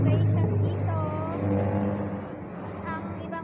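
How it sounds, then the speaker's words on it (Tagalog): Traffic on a nearby highway, with cars rushing past close by in a steady loud drone as individual vehicles swell and fade; someone talks over the noise. "Ang ibang mga sasakyan, maingay."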